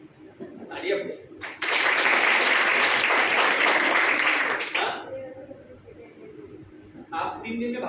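Audience applause breaks out at a corporate training session, a loud sustained wash of clapping lasting a few seconds, with someone talking in Hindi before and after it.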